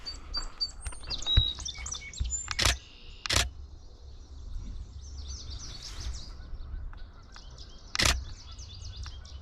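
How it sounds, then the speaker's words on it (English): A song sparrow sings bright, repeated chirping phrases at middle distance in a spring setting in Nova Scotia, broken by several sharp camera shutter clicks. "Another song sparrow."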